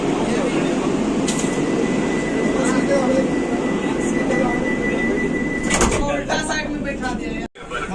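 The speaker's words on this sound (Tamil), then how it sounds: "ஸோ இப்போ டோர்லாம் லாக் பண்ணிடுவாங்க." Doors on the Vande Bharat 20642 train close and lock before departure on its inaugural Coimbatore to Bangalore run. A brief clunk and hiss cut through steady platform hum and crowd chatter.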